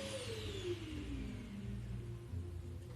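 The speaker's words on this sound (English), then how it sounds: "Sorry if you guys hear the vacuum in the background" A vacuum cleaner runs steadily in the background, giving a constant low whir with a slowly falling whine that holds throughout at low volume, with no voices.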